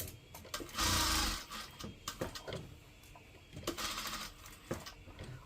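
A sewing machine stitches a churidar pajama in close, loud bursts of rapid mechanical whirring, with two longer runs separated by pauses and lighter clicks.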